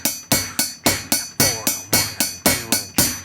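Rock drum beat on a kit for a grade 1 rock and pop piece, bass drum and snare hitting together in sharp, evenly spaced strikes about every third of a second, close and punchy with cymbal wash, no talking.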